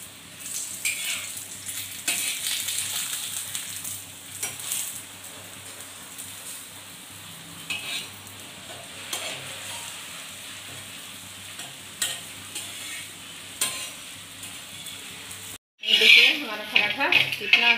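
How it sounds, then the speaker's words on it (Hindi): Paneer paratha cooking in a pan with ghee or oil, a continuous gentle sizzle with occasional utensil clatter and flipping sounds, moderately close, with a brief louder burst near the end. "ऐसे ही पलट पलट के हम खूब अच्छे से पका लेंगे।"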